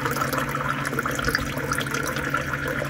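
A desktop water tap dispenses a measured 200 ml of fresh water into a cup inside a camper van, giving a steady, close rush of pouring water that runs without a break.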